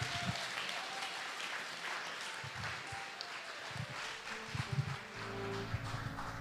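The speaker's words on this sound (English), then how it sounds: "Big applause" Moderate applause from an audience at a startup pitch event, a steady wash of clapping heard at some distance, with a few voices and louder bursts near the end.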